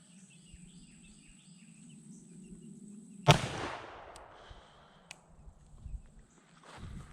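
A single sharp gunshot from a percussion revolver firing a 256 grain bullet at a metal plate cracks loudly outdoors, followed by a fading echo and faint later sounds, with insects and birds faint in the background.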